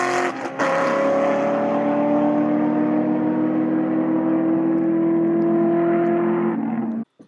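A turbocharged 2000 Mustang GT race car engine roars loudly and climbs steadily in pitch as it accelerates, then cuts off abruptly at the end.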